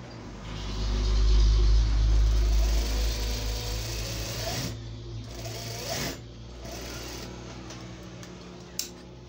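Sewing machine stitching a button tack on cloth: a loud, close motor whir that swells at the start, then runs quieter with short bursts of stitching and a small click near the end.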